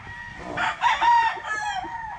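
A gamefowl rooster crows once, close and loud, the call rising and stretching out over about a second and a half against a quiet background.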